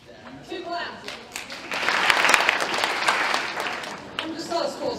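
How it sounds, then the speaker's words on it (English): An audience at a school spring athletic awards and senior recognition event breaks into applause, swelling to a dense, loud clapping in the middle before tapering off, with some voices around it. "There's the two claps."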